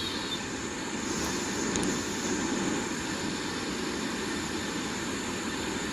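Steady jet engine rumble and broad airflow roar fill the cockpit of a Lufthansa Airbus A319 descending in the Aerofly flight simulator, a constant even drone with no voices.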